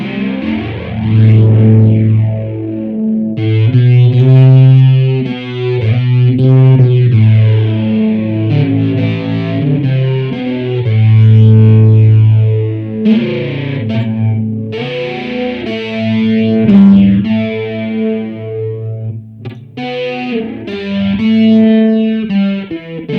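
An electric guitar plays through a JHS 3 Series Flanger pedal, its loud chords and notes sweeping with a swirling, jet-like whoosh for over twenty seconds, with brief pauses between phrases and no talking.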